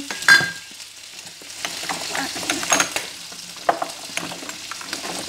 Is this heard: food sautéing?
yes